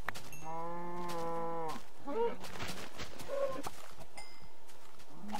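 A single drawn-out moo from a video game cow rings out, followed by scattered clicks and short bleating calls against a quiet background.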